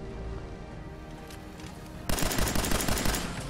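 Fallout 4 gunfire rings out in a sudden loud burst of rapid automatic shots over a steady game background hum, with no talking.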